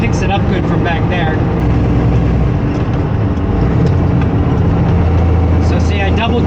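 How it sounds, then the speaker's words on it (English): A semi truck with an 18-speed manual transmission slows and downshifts, its steady, loud, low diesel drone running continuously beneath a voice. "I'll start slowing down and downshifting to try and show you guys"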